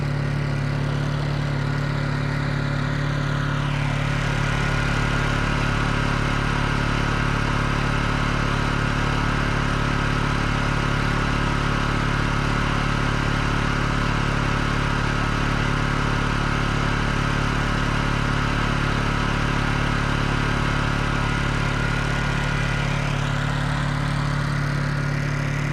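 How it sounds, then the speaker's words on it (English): A Honda EU2000i inverter generator runs at steady speed, heard close at its exhaust outlet as a loud, continuous droning hum that holds level throughout with no talk. "We'll go back to the exhaust so we can hear the exhaust point."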